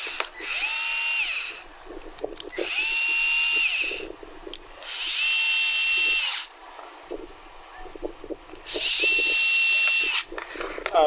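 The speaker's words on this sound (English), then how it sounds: "Have to remove these two screws that hold the mounting." A power screwdriver backs out the mounting screws on the carburetor of a McCulloch Electrolux TM251 chainsaw, four separate whirring bursts, each a couple of seconds long, close up with short pauses between them.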